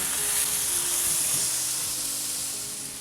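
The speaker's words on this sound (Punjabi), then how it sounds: "ਹੁਣ ਚੰਗੀ ਤਰ੍ਹਾਂ ਇਹਨਾਂ ਨੂੰ ਮਿਕਸ ਕਰ ਦਵਾਂਗੇ ਹਲਦੀ ਨੂੰ ਤੇ ਲੂਣ ਨੂੰ" Kundru stirred with turmeric and salt in a hot pan gives a continuous hissing sizzle that stays broad and even and tapers slightly near the end, with no talking.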